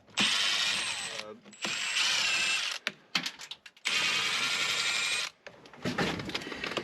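A ratchet backs out the 7mm screws of the control panel in the dash of a G-body Cutlass. Loud, close, rapid clicking comes in several separate bursts with short pauses and handling noises between them.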